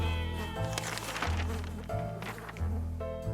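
A cat in the survival video game 60 Seconds meows repeatedly in drawn-out, wailing cries over looping game music, loud and close.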